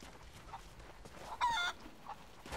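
A chicken in Rise of the Tomb Raider lets out a single short, faint cluck over quiet ambient game noise.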